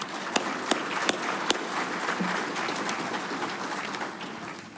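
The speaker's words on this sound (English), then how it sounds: "Please give them a round of applause." An audience applauds board members at an electric cooperative's annual meeting, with a few loud sharp claps near the start before the sound settles into a steady spread of clapping through a large hall.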